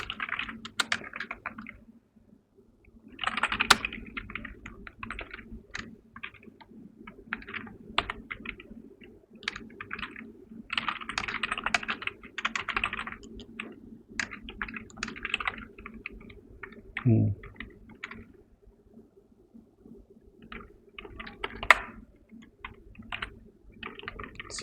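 Computer keyboard typing while writing Dart code: irregular bursts of close, soft key clicks with brief pauses between runs, no voice.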